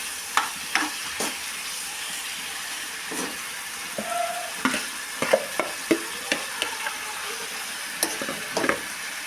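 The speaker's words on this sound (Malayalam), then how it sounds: "ഇനി ഇതിലേക്ക് കുറേശ്ശെയായിട്ട് നെല്ലിക്ക ഇട്ട് കൊടുത്ത് നന്നായിട്ട് ഇളക്കി ഒന്ന് വേവിക്കണം" Gooseberries cook in oil for pickle, stirred in a pan with a soft steady sizzle and repeated scraping knocks of the spoon against the vessel, close by with no talk.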